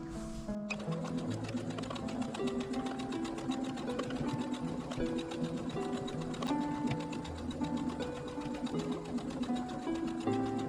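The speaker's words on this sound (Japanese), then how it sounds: "ミシンしていきます。" A sewing machine stitches fabric with piping cord inside, making a continuous rapid mechanical whir for the whole stretch, with soft tonal background music underneath.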